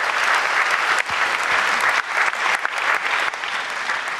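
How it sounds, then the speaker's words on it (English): A large audience claps steadily at a senior high school renewable energy challenge, the southern zonal round, giving dense, continuous applause close by with brief dips in intensity. "I'm sure you can do better with the applause"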